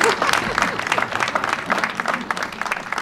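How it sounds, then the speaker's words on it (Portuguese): Applause from a parade crowd at the Festas das Doze Ribeiras opening procession, greeting a local association as it passes, with steady, dense clapping throughout and scattered voices mixed in. "Mais um aplauso, por favor, para esta associação"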